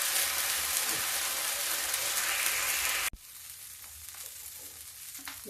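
Ghee and spices sizzle loudly in a pan while cooking shahi palak, a dense steady frying hiss that cuts off abruptly midway and drops to a quieter crackle with light stirring.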